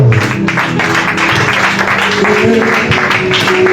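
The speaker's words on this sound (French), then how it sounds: "Acclame le Seigneur Jésus." A church congregation applauds to acclaim Jesus, a dense, continuous wash of clapping that stays loud throughout, with voices mixed in underneath.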